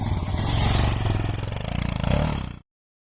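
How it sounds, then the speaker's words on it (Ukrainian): A Yamaha XT 660 Z Tenere single-cylinder engine runs close and loud with a steady pulsing thump, cutting off abruptly after a few seconds. "Так от треба тестувати, пробувати мотоцикл"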